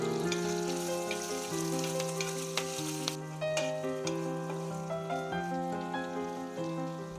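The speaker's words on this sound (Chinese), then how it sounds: "先把蒜片爆香，加入培根，" Garlic slices and bacon sizzle in a hot pan started with cold oil, a steady close crackle broken by clinking stirring strokes, with a soft tonal backing underneath.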